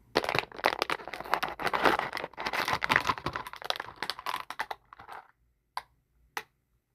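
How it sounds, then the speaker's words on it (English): A knife saws and crunches through a frozen plastic bottle, producing dense crackling and crinkling up close. The sound thins out into a few sharp, isolated clicks at the end. "We're just gonna cut the bottle open."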